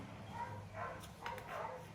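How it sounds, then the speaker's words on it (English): Neighbor's dogs bark and yip in short repeated bursts, faint and distant, over a low outdoor rumble, with no voices. "the neighbor dogs are angry"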